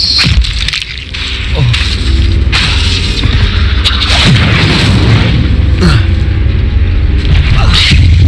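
Hogwarts Legacy gameplay with an Incendio fire spell cast amid combat: loud booming bursts and whooshing fiery impacts repeat over a dense rumbling game soundscape, with faint shouted spell voices.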